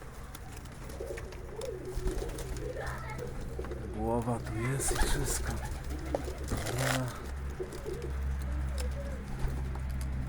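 Pigeons coo softly near and far while someone speaks Polish over them, with occasional rustling and wing flutters in the background.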